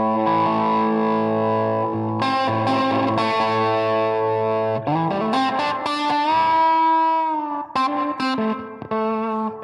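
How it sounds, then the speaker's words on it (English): Artist LP60 electric guitar played through a Tweedtone V amp with a spacious, airy reverb, heard alone: sustained distorted chords and bends ringing out, with sharp strummed attacks and a smooth swelling tail, loud and close throughout. "I can see why they call it a space reverb."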